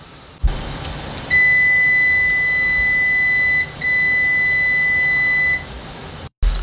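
ANENG Q60 multimeter continuity beeper sounding loudly at maximum volume, two long piercing steady tones about two seconds each with a brief gap between them, set against quiet room noise.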